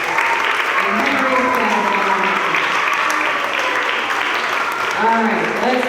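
Sustained audience applause at a school spring band and orchestra concert, steady and fairly loud throughout with a few faint voices and cheers mixed into the clapping.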